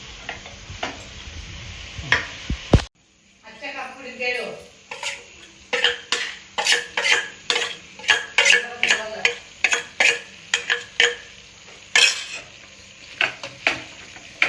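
A chapathi roll vegetable filling with chilli powder is stirred in a pan, with a regular series of spoon scrapes and taps over a light sizzle, following a cough and a short pause.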